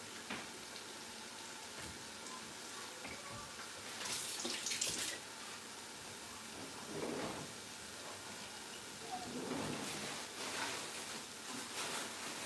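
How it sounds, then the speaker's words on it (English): Tap water runs steadily and faintly while rice is washed for goat meat jollof, with a few louder splashy bursts as the grains are swirled and rinsed. "So I'm getting my rice washed."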